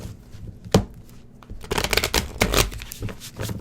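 Tarot cards shuffled by hand, giving a quick riffling flutter, then a sharp snap, then a longer run of dense, uneven papery riffles at close range with no talking.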